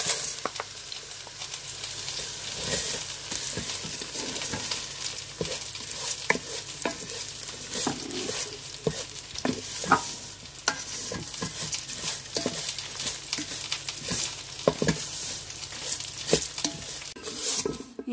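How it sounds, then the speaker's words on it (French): Vermicelli and onions sizzling and browning in a pan, a steady close fry with frequent scrapes and clinks of a utensil stirring against the pan. "Je mets le vermicelle en même temps que les oignons et je laisse dorer."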